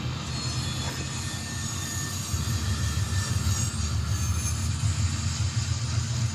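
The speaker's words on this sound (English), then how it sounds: "Gonna put the throttle all the way up so that I have a good running start" A locomotive throttled all the way up, pulling away with a steady, loud low rumble of engine and rolling wagons that builds slightly partway through, with no talk.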